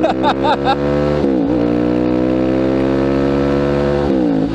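Supermoto motorcycle engine running loud and close on a muddy toll road, with a few quick revs at the start and then a steady sustained drone with a brief dip partway through.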